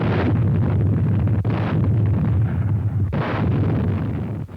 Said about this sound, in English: The bombardment was heavy while it lasted